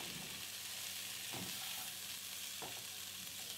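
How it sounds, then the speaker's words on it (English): Fried cottage cheese is stirred gently with green peas in a pan for Manipuri matar paneer, giving a soft constant sizzle and two light spoon scrapes, with no talking. "Now add the fried cottage cheese, stir gently,"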